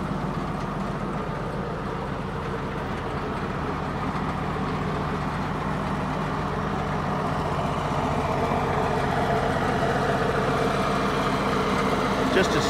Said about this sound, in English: Just a smooth running tractor.